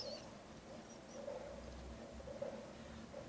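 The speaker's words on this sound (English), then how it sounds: "There's so many birds on my bird feeder right now." Birds crowd a backyard feeder after rain, with faint, intermittent chirps and soft calls at a distance over a quiet background hum, no voices present.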